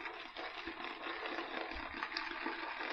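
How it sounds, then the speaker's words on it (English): A shaving brush works up a lather on Commando shave soap, giving a steady wet swishing and churning that runs evenly throughout at close range. "And we're going to build a lather."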